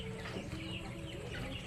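Chickens clucking nearby amid a dense, noisy farmyard background, with continuous overlapping bird calls.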